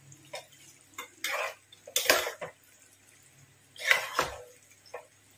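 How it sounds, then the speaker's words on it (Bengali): White sauce being stirred into pasta in a pan, with scattered scraping and clinking bursts of utensil against cookware and wet squelching mixing, some loud strokes and quieter taps in between. "ভালোভাবে সসটাকে পাস্তার সাথে মিশিয়ে নিতে হবে।"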